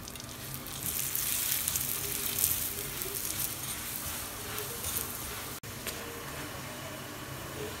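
Paratha frying in oil in a pan gives a steady, fine sizzle and crackle close by, continuous and fairly quiet throughout.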